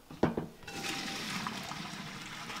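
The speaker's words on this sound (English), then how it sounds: "We're draining the pasta." Boiling water and cooked pasta are drained, the water gushing out in a sudden loud rush that settles into a steady, close splashing flow.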